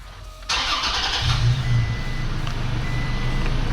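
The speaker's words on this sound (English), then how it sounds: "Now in theory, I'm going to turn the car on." A 2017 Toyota Tacoma's engine cranks and fires inside a closed garage, catching with a loud burst and then settling into a steady low idle.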